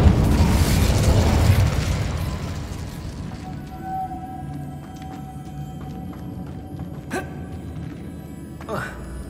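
The Incendio fire spell in Hogwarts Legacy opens with a loud, rushing burst of flame that fades over a couple of seconds into a quieter background with a few faint clicks.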